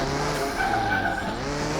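Tires squeal in a sustained skid as a stock car's stock brakes lock up in the racing game Car Mechanic Simulator 2021, loud and steady with engine noise underneath.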